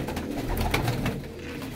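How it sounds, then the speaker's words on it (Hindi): Faisalabadi pigeons cooing in a loft, a soft, steady murmur of low coos at close range, with no talk over it. "आ फैसलाबादी कबूतर"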